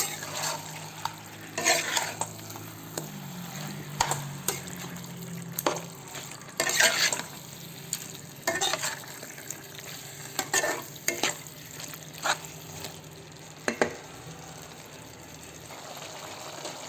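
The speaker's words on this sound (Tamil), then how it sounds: "இப்போ இந்த சிக்கன் கூட ஒரு 5 நிமிஷம் நம்ம இதிலே ஃப்ரை பண்ணணும்" Chicken pieces frying in a pan, a low continuous sizzle punctuated by irregular bursts of scraping and clattering as a spatula stirs them, close up with no voices.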